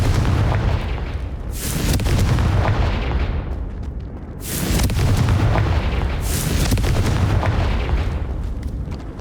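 Confringo fire spell explosions from Hogwarts Legacy on Nintendo Switch: three loud, rumbling blasts arrive a couple of seconds apart over a continuous heavy low roar, with no voices.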